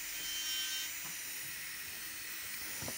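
A Strong electric manicure machine running a cone-shaped bit to lift and clean cuticles, producing a steady thin high-pitched whine with faint light contact noises, close and unbroken.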